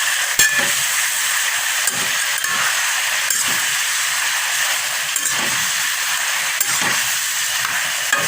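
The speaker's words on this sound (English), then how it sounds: "I'm frying the chicken up here." Steady sizzling hiss of hen meat frying in a pan for adobo, continuous throughout with a few faint clicks and knocks, no talking.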